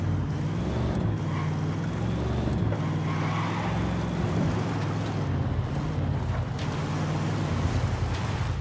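Car driving in Ghost Recon Wildlands, a steady low engine rumble with wind-like road noise, continuous and fairly loud throughout, no talk.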